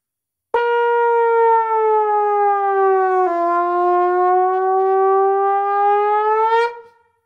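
A trombone imitates an ambulance siren, playing one loud sustained wailing tone that dips and then rises again, heard close and alone for several seconds.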